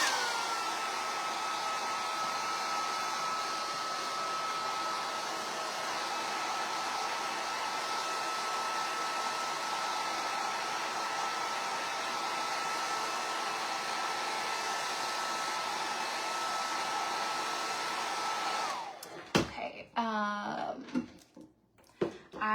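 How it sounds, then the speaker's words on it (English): A hair dryer blows steadily over a craft project, a constant whirring hum with a faint whine that runs unbroken for most of the stretch, then cuts off into a few scattered handling knocks. "dry it with a hair dryer"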